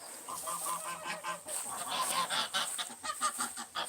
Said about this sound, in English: you can see the geese right there. This is a geese coo.